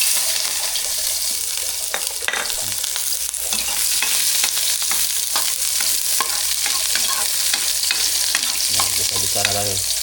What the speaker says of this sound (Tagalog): Ayan, gigisa muna tayo mga kadudoy